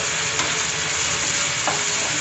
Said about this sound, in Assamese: লগে লগে এইদৰে লৰাই দিলোঁ